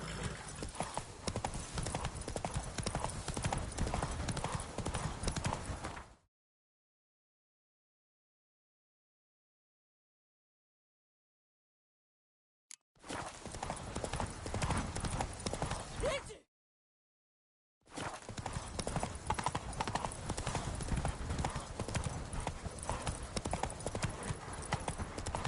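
A horse's hooves clip-clop steadily in The Witcher video game, with an occasional whinny, loud and close, broken by two stretches of silence.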